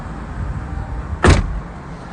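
A car door closes automatically at the push of a button, one short solid thud with a brief whir, heard over low idling car ambience.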